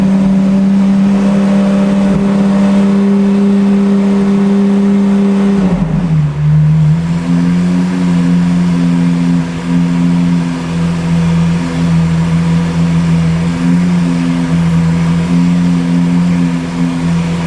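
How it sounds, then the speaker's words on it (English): A Lamborghini Aventador engine with a fault runs loud and steady, drops briefly, then settles back into a constant high idle drone with no speech. "So the car is started."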